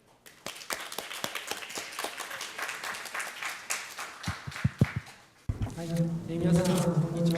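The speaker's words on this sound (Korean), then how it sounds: "박수로 모시겠습니다." Scattered claps from a small seminar audience at a Korea-Japan joint session welcome a presenter, sharp and distinct hand claps that thin out before a voice takes over near the end.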